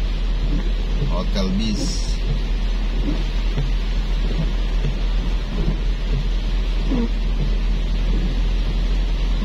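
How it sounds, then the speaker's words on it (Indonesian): Morning rain falling steadily over Manado streets, a constant hiss with faint rumbles and passing traffic, while someone talks over it throughout. "Masih hujan."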